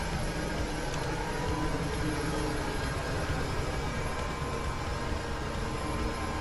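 Steady broadband airliner engine roar in Microsoft Flight Simulator during takeoff preparation, a continuous even drone with a hissy rushing wash and no breaks, loud and close throughout.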